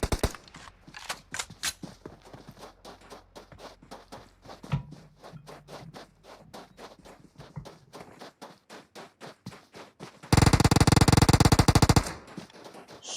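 Rapid bursts of Uzi submachine gun fire in the battle royale game PUBG Mobile during a competitive custom-room scrim, a long steady run of sharp shots ending in a loud, dense final burst.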